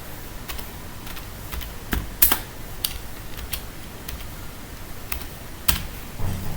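Python code being typed on a computer keyboard: scattered, irregular keystrokes clicking at close range with short pauses between bursts, no voices.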